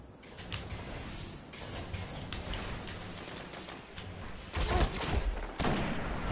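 Gunfire in Destiny PvP multiplayer, a dense stream of game weapon shots with bursts that grow louder and heavier toward the end, over constant game noise.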